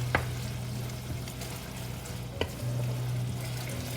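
Soy and oyster sauce thinned with water simmer and sizzle in a pan for a vermicelli (bee hoon goreng) stir-fry, a steady low bubbling hiss with a couple of faint clinks, no talking.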